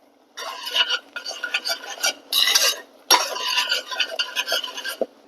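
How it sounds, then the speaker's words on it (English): A spoon stirs an ingredient into cooling homemade caramel sauce in a pan, making bursts of scraping and clinking against the metal, with two main stretches of stirring split by a short pause and a final tap. "And then I'm just going to stir this in."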